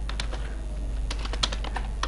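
Urdu text is typed on a computer keyboard, giving rapid, light key clicks in an uneven rhythm over a low steady hum. The clicks are close and fairly quiet, with no speech.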